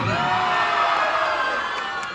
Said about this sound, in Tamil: இங்க பெண்கள் நிறைய பேர் கை தட்டுறாங்க, கத்துறாங்க, சந்தோஷப்படுறாங்க